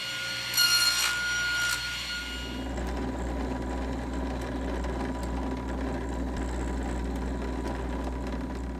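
A hand saw rasps back and forth through small wooden top and trim pieces for a mini camera stand, a couple of brief louder strokes at first, then a steady, fainter continuous cutting rub.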